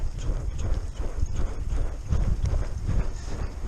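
Horse hooves clop in a steady walking rhythm close by, each step a soft thud repeating over a faint outdoor background.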